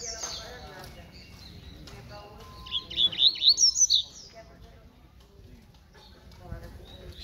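Wild birds chirp outdoors on a sunny day, a burst of bright, rapid tweets rising near the middle over steady outdoor background noise, with softer calls at the edges.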